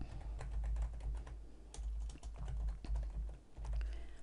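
Close, brisk typing on a computer keyboard while entering a name in an Access practice exam, bursts of clicky keystrokes separated by brief pauses, with nothing else heard.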